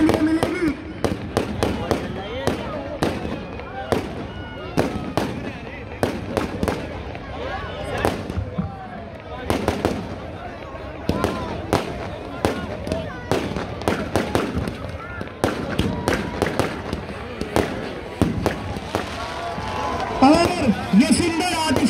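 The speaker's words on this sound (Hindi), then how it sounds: "ये सुंदर आतिशबाजी आप सभी को देखने के लिए मिलेगी।" Fireworks at a Dussehra Ravan Dahan festival in Rohtak, Haryana pop and crackle in rapid, irregular bursts throughout, with a crowd murmuring and a voice talking underneath.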